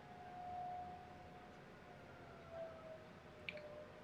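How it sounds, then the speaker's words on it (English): A weekly noon tornado siren test in a small Kansas town rises and holds as a faint, distant wail, heard through a quiet room with a few soft clicks nearby. "It's our tornado siren test."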